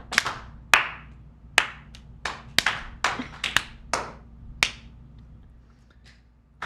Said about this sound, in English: One last clap.